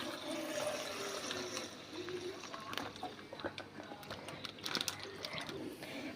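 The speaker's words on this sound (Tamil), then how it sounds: "அடுத்தது பால் ஊற்றிக்கலாம்." Milk poured into a vessel in a home kitchen: a faint, uneven liquid trickle and splash runs for several seconds at low volume, with some light background clatter.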